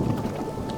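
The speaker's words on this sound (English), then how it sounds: "We're gonna lose a lot of resources outside to rain today." Rain and rolling thunder from the video game Mind Over Magic, a steady dense downpour with a low rumble running continuously through the short stretch, with no talking.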